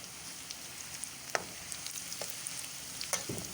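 Onions browning lightly in a pan for a chicken mash daal, giving a steady soft sizzle with a few sharp clinks from stirring against the pan, heard alone without talk.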